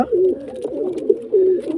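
Soft, low coos of pigeon chicks repeating in short throaty bursts, close by, with faint rustling between calls.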